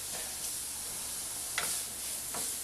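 Breakfast sausage seasoned with salt and pepper browns in a pan, giving a steady close sizzle with a couple of brief louder spits of fat.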